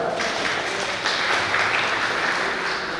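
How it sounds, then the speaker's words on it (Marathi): An audience at a thanksgiving ceremony breaks into loud applause, a dense, steady wash of many hands clapping together, close and continuous from start to finish with no voices over it. "तुमच्या सर्वांसाठी एकदा जोरदार टाळ्या"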